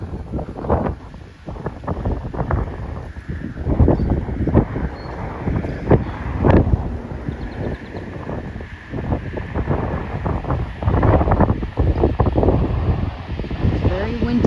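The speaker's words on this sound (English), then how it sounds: "It's very windy today." Strong gusting wind buffets the microphone at Dallas Love Field Airport, coming in loud, irregular rumbling bursts throughout, with a person speaking at times.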